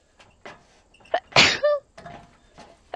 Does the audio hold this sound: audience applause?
no